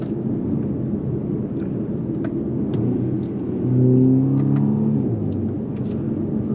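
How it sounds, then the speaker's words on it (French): A BMW M235i Gran Coupe xDrive with 306 hp in sport mode gives a low steady rumbling hum, and the engine note briefly swells and rises in a short rev before settling back. No talk is heard. "En mode sport, on va remarquer une sonorité beaucoup plus présente sur le véhicule"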